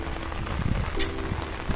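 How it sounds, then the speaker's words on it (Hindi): Heavy rain pours steadily in Mumbra, a dense constant patter across the whole stretch with a brief sharper splash near the middle, no talking. "बारिश बहुत तेज हो रही है"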